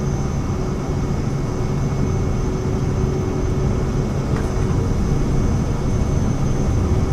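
Steady, loud roar of a Vision Jet's engine at full takeoff power in Microsoft Flight Simulator, a continuous broadband rumble with a faint high whine held evenly throughout, no voices.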